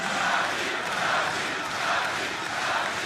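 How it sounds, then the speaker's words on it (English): A large arena crowd cheers steadily at a League of Legends all-star esports match in Paris, a dense, loud, sustained roar with gentle swells and no single voice standing out. "And you can hear the crowd."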